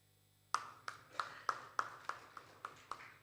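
Claps from a conference audience at a business conclave, heard as a sparse run of about nine separate sharp hand claps spaced roughly evenly, fairly quiet, with no talking over them.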